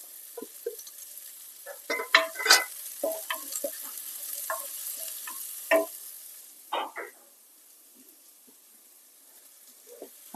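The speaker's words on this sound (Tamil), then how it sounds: "வெங்காயத்தை பொடியாக கட் பண்ணி வச்சுருக்கோம்ல அந்த வெங்காயத்தையும் போட்டு வதக்கிக்கலாம்" Finely chopped onions sauté in a pan for a Tamil channa biryani, with close, uneven bursts of sizzling and spoon-stirring scrapes that fade to a quiet hiss.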